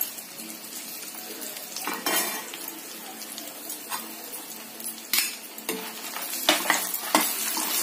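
Dry red chillies and turmeric fry in a little oil in a pan, a light sizzle under repeated clinks and scrapes of a spoon against the metal, close and uneven.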